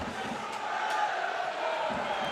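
A football crowd at a Bury FC home match cheers after an equalising goal, a broad, steady roar from the stands heard at a distance with a few faint shouts rising above it.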